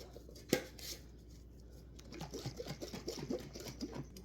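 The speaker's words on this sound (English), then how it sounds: "Shake this all up so it's well mixed." After a sharp knock, a closed container of iced coffee made with unsweetened almond milk, ice and chocolate syrup is shaken, giving a rapid, rhythmic rattle and slosh of ice up close.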